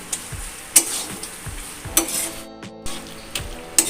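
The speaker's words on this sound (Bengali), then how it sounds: "আবারও আমি কিছুক্ষণের জন্য এটাকে হাই ফ্লেমে দিয়ে রান্না করব।" Katla fish head with taro greens cooks over a high flame, sizzling continuously while a utensil scrapes and clinks against the pan in sharp, irregular strokes.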